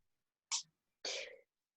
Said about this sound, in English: when you're done sneezing?